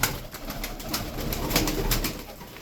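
Pigeons coo softly in the background amid a steady wash of outdoor noise, no voices present.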